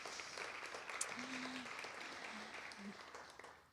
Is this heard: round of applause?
yes